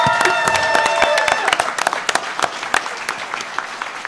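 A live audience at a Nerdtacular 2015 podcast recording breaks into loud, dense applause with some cheering, the clapping thinning out into scattered individual claps toward the end.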